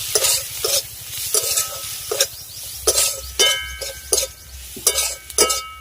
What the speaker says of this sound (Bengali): এবার সব কিছুকে ভালো করে মিশিয়ে নেব